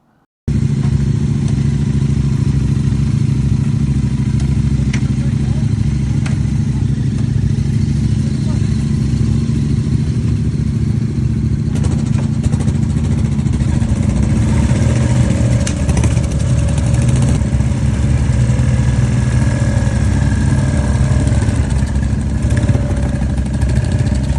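Several Royal Enfield motorcycles from a Devon club idle and rumble together outside a motor museum, a loud continuous low engine drone with occasional revs, mixed with background voices.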